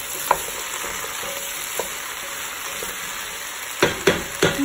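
Garlic soup seasoned with salt and pepper gets stirred in a pot, a low steady simmering hiss with a few light knocks of the spoon against the side, the clinks clustering toward the end.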